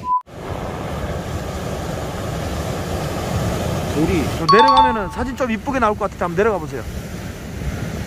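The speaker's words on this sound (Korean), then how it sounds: "파도 오늘 장난 아니야" Ocean waves surge onto the beach at Jumunjin, Gangneung, making a constant broad roar throughout. Partway through, people start talking over the surf.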